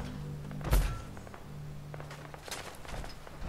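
A grenade lands close by in Fallout 4: one heavy thunk comes early, followed by quieter scattered taps and soft thuds over a low background hum, with no one talking.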